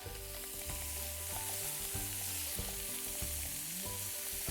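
Fish frying in plenty of butter in a pan set over coals at a shore lunch, a continuous crackling sizzle marked by repeated short clanks and scrapes as the fish is pushed around the pan.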